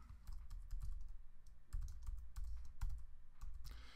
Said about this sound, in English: And then we type in whatever we want.